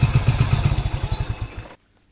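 Motorcycle engine close by, idling with a regular thumping pulse as it is brought indoors out of the rain, then switched off abruptly near the end, leaving near silence.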